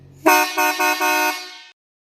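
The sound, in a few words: truck horn honking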